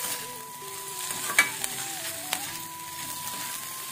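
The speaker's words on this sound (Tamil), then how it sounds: "போட்டு லைட்டாக மிக்ஸ் பண்ணி விட்டுக்கோங்க" Grated paneer being stirred into onions frying in a pan, with a steady soft sizzle and a few light scrapes and clinks of the spoon, close and fairly quiet.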